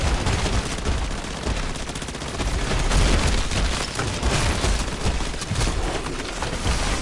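Dense, continuous gunfire aimed at an abomination in MW3 Zombies, loud and chaotic with overlapping shots and heavy low rumble throughout, no clear pauses.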